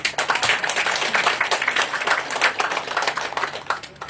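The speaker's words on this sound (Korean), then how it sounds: "다시 한번 박수 부탁드리겠습니다" Applause at a park golf course opening ceremony in Nonsan, a few seconds of steady, moderately loud clapping from a gathered crowd.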